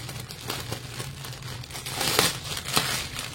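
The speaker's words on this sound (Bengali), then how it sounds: "এখানে তোমাদের সামনে ছিঁড়ছি, খুলছি" A parcel's plastic packaging crinkles and tears open up close in a run of bursts, ending in several louder rips.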